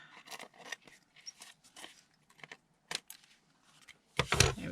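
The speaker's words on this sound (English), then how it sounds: "Snip off this excess leaf." Scissors trim excess off a paper leaf in a series of small, crisp, close snips spread irregularly, ending in a louder rustle of handled paper.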